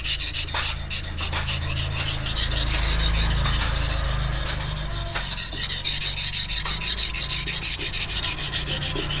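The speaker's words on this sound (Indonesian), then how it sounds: "Nah, kenapa saya pakai media amplas?" Knife blade of T5MO steel, a Turkish gulacar-style knife with a 3 cm wide tapering blade, stroked across 400-grit sandpaper: steady, close rhythmic rasping strokes repeating throughout, with no talk.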